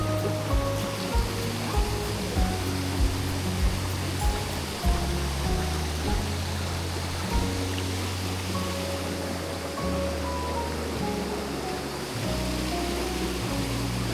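A waterfall rushes in a continuous broadband roar, loud and close, with a low tonal hum and faint periodic thumps running underneath.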